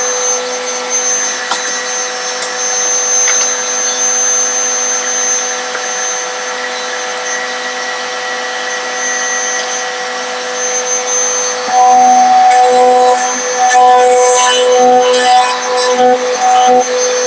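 A woodworking router with a bit in a Gifkins dovetail jig cuts a curved-sided dovetail joint in timber, a steady high motor whine that grows louder and harsher near the end as the bit bites into the wood.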